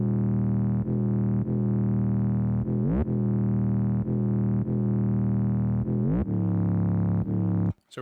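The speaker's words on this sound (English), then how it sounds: "And then the meat of this beat was actually this 808," Deep, sustained 808 bass in an FL Studio trap beat, with long gliding notes that step between pitches and slide at a few points, loud and alone before cutting out at the end.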